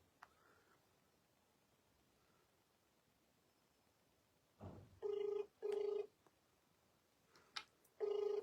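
A telephone ringback tone follows the dialing of a number: faint handling rustle, then steady, loud tone bursts in a repeating on-off pattern, with no talk.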